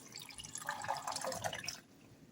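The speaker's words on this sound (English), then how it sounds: "I am using strawberry today, so I'm pouring in my strawberry." Strawberry juice pours into a blender for a smoothie, a steady splashing trickle of liquid for under two seconds that then cuts off, fairly close and without any talk.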